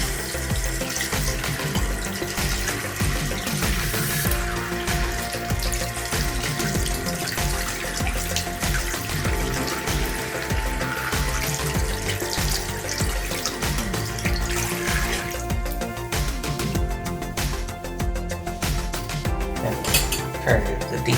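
Miniature-painting brushes rinsed under a running tap, a steady continuous gush of water into a sink with faint clinks, close and unbroken for about twenty seconds.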